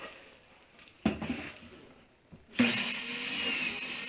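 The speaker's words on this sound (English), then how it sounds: "And then I'm going to drill some pocket holes on the rail side." Drilling pocket holes into the rail of a farmhouse coffee table: a brief burst near the start, then a loud, steady power-drill whine that holds for the final second and a half.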